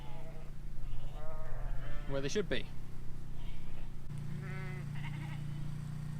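Sheep bleating on a farm as dogs herd them toward a field, several loud, wavering calls close by amid wind and engine-like rumble, with someone talking over them.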